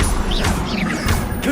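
A brief Confringo blasting curse explosion from Hogwarts Legacy gives a quick crashing impact within busy spell-combat effects, all over in under two seconds.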